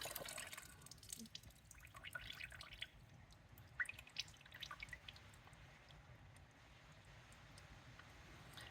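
Coolant drains from a 2015 Kawasaki Ninja 650 with a removed hose, a faint, scattered patter of drips over quiet background hiss, irregular and close, with no talk.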